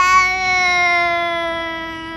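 A kitten gives one drawn-out meow, clear and fairly loud, slowly falling in pitch and fading over about two seconds.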